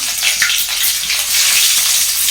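Chopped onions sizzle loudly in hot oil with fennel seeds, a steady close crackle with bursts of stirring throughout.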